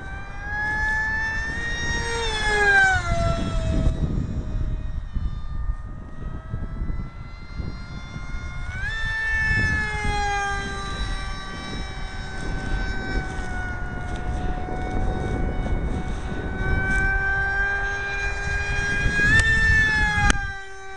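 A small electric RC jet with a Turnigy helicopter motor whines overhead, its high-pitched motor tone sliding up and down in pitch as it passes and circles, loud and continuous.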